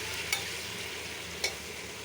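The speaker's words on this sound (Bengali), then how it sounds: "এখন মাংস দিয়ে নাড়াচাড়া করব, তারপরে প্রেশার কুকারে ছিটিয়ে দিব।" Meat stirred in a cooking pot: a soft, steady sizzle with two brief scraping knocks against the pot, fairly faint and without voices.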